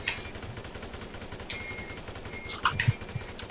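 MP5 submachine gun fire in GTA, heard as a few short, sharp bursts and single shots over a steady background hum, fairly loud and close, with no talking.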